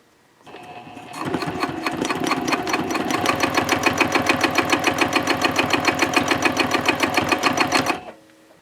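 A sewing machine stitches Cordura fabric for a trifold wallet, starting after a brief pause and running as a fast, steady, loud mechanical chatter for about seven seconds before stopping abruptly.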